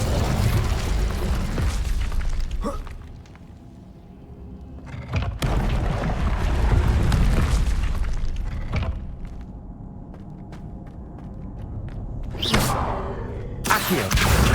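Fire spell blasts cast in Hogwarts Legacy: several loud, broad whooshing bursts with booming thuds, separated by rumbling game ambience, with a sharp flare near the end.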